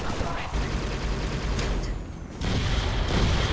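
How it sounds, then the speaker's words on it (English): Dense, rumbling blasts and gunfire-like bursts from combat in Halo: Spartan Assault, loud and continuous with a swell toward the end, while someone talks over the din. "Things are exploding"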